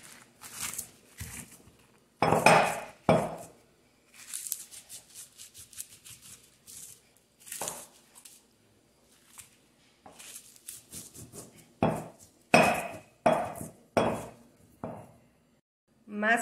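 Chili peppers being ground in a stone molcajete for a Jalisco-style salsa: irregular bursts of scraping and knocking, close and fairly quiet, separated by pauses.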